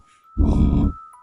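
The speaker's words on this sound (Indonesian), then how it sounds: "Suara itu seperti orang marah dan menggeram." A low, throaty growl like an angry person's, a single close, loud rumbling burst of about half a second with quiet before and after.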